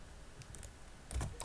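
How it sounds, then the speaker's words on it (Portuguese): A computer keyboard is being typed on to enter a chemical equation. A few faint, quiet key clicks come alone, ending in a short cluster of taps. "vou digitar uma outra equação."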